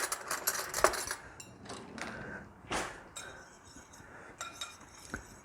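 Dry ingredients for fudgy keto brownies being stirred together in a bowl, with light clinks and scraping taps of a utensil against the bowl arriving in irregular bursts, close and fairly quiet.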